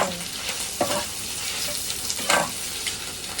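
Carrot and onion stir-frying in a hot pan during a kindergarten cooking activity, a steady broadband sizzle with a few louder scraping stirs of the utensil, close and alone with no talk.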